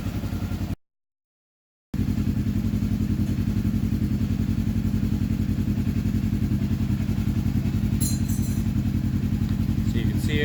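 A turbocharged RZR side-by-side engine idles steadily after its fuel mixture is trimmed, a close, even rumble with rapid regular pulses and a brief dropout near the start, continuing alone without talk.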